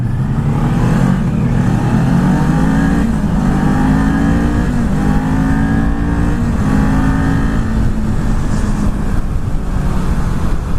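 A 2019 Kawasaki Z400 motorcycle engine runs loud and close, a continuous steady drone with slight rises in pitch as it pulls, no voices over it.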